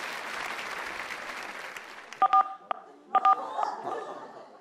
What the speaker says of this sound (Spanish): Un aplauso para Hilda.